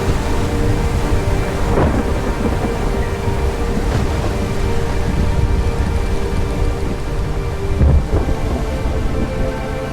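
Thunderstorm at sea in WILL: Follow The Light, heavy steady rain under rolling thunder, with sharper cracks swelling about every two seconds and a heavier boom near the end.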